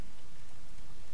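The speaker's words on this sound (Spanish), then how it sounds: "llovía otra vez, aquí cada rato llueve" Steady, loud rain pours down in Minecraft, a dense unbroken hiss of falling water with no pauses and nothing else rising above it.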